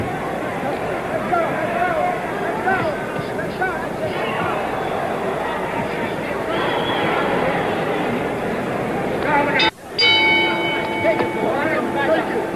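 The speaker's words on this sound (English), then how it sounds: "The bell for round 9." Boxing ring bell signalling round 9 of Muhammad Ali vs Ken Norton at the San Diego Sports Arena: crowd hubbub and commentary run under most of the stretch, then a bell rings near the end with a sustained ring.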